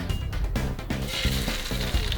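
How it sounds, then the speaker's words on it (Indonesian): Spice paste sautéing in hot cooking oil: a steady, close sizzle and crackle running throughout, with faint background music beneath. "Panaskan minyak goreng. Lalu tumis deh bumbunya."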